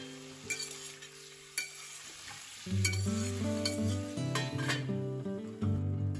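Pumpkin and vegetables fry in a pan with ginger, a steady close sizzle broken by clanking stirs and scrapes of a utensil against the pan, with a low tonal hum beneath.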